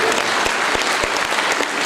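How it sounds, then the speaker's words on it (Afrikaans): An audience at an Afrikaans gospel music performance claps steadily and loudly, a dense wash of handclaps with no speech. "Geef hulle 'n hande klap, hulle is pragtig."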